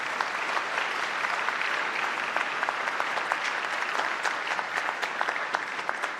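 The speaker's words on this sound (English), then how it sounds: "Please give them another round of applause." Sustained applause from a crowd at a university Founders Day ceremony, a dense, even patter of many hands clapping continuously and fairly loudly throughout.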